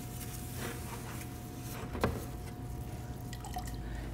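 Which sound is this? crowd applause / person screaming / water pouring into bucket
water pouring into bucket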